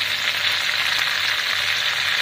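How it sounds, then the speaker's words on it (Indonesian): Food sizzles and fries steadily in a classic wok while sambal is cooked, a continuous close crackling hiss with no talking. "Lepas tu sambil kita goreng dia."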